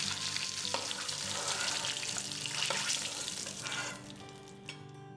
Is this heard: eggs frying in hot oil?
yes